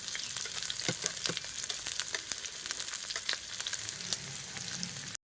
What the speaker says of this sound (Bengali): তেলে দিয়ে ভেজে নেবো হালকা কোনো মতো, যাতে লাল লাল না হয় সেইভাবে কোনো মতো নাড়াচাড়া করে তুলে নেবো।